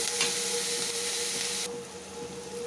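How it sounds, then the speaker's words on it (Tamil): Onions sauté in a small amount of oil with a close, steady sizzle over a faint constant hum; the sizzle drops sharply in loudness partway through and continues softer. "வெங்காயம் நல்லா வதங்கட்டும்."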